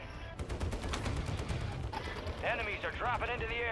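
Call of Duty gunfire coming from a hill, rapid machine-gun style bursts crackling in quick succession, loud and close, with a player's voice speaking over the shooting toward the end.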